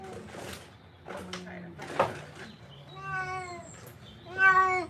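A Ragdoll cat meows repeatedly, a series of drawn-out, plaintive cries rising in pitch near the end, close by, interspersed with people talking and some soft handling noises.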